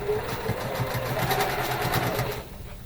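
Domestic sewing machine stitching a quilt row, pieced blocks with nested seams, running at a steady, fairly slow pace with a continuous mechanical whir and rhythmic needle beats, close up, stopping near the end.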